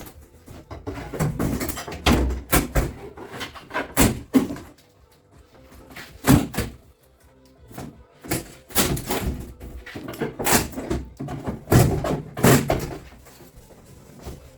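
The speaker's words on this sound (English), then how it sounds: "You want me to close your door again?" A door in a house under laundry room renovation bumps and closes several times, with sharp, loud knocks and thuds spaced irregularly through the clip.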